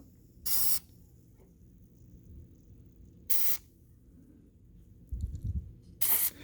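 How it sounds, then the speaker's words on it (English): White lithium grease sprays from an aerosol can in three short, loud bursts of hiss, separated by quiet pauses with a low muffled rumble between them. "I'm going to put a little bit of a lubricant on here"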